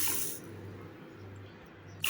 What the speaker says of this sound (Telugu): అదే కప్పుతో మూడు కప్పుల నీళ్లు పోసుకొని